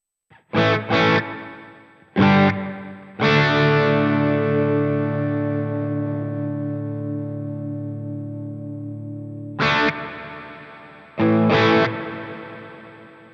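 An electric guitar played through the modulation reverb of a Sonicake Matribox 2 pedal rings out in a few strummed chords, one sustaining long with a shimmering wash that slowly decays, followed by shorter stabs.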